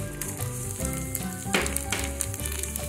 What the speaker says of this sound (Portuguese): E a gente vai refogar isso aqui.